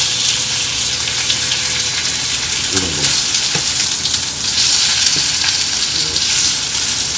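Shrimp sizzling loudly in a hot pan for a brief, light fry, a dense steady crackle with a few soft knocks and scrapes partway through, no voices.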